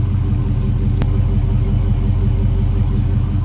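A 2018 Dodge Charger Daytona 392 V8 with its stock mid muffler idles steadily and close, a deep continuous low rumble with a brief click near the middle.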